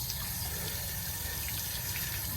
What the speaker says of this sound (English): now I am starting the flush process to flush out the tank